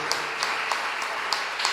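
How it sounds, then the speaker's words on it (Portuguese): A church congregation claps together in a dense, crackling burst of applause that holds steady, with a few sharper individual claps standing out at intervals. "Aplauda ao Senhor"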